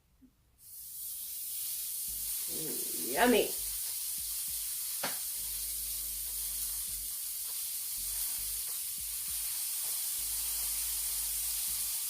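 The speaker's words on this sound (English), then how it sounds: "I'm going to go ahead and throw some steaks on there." Steaks hit a hot Gotham Steel electric smokeless grill and sizzle loudly with a steady, bright hiss that continues throughout; a person briefly speaks early on.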